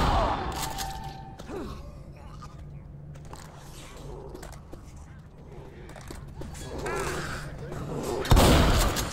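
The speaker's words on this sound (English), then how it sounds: "A shot or something down there." Gunfire in the Left 4 Dead 2 versus mode on the No Mercy campaign sounds as a faint, muffled pop from down below, then a louder burst near the end, mixed with game ambience and a person talking.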